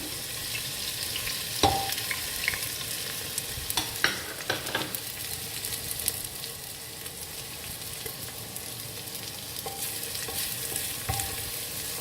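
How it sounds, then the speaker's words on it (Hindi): Garlic sizzles steadily in a hot pan with occasional stirring scrapes and clinks, close and continuous, no talking. "चार से 5 मिनट हो गए मुझे लहसुन को सौते करते हुए।"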